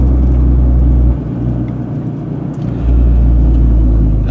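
A Nissan GT-R R35 cruises along a street circuit, its engine and road noise a loud, steady rumble from inside the cabin that eases slightly in the middle before rising again.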